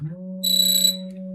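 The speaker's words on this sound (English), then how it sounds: "that was my alarm" An alarm goes off with a steady electronic tone, joined by a brighter, shriller layer for about half a second midway, then continuing alone at moderate volume with no talking.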